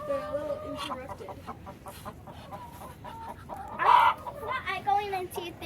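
Hens cluck and murmur steadily in a farmyard coop after ducks arrive, with a few louder squawks standing out near the middle and toward the end.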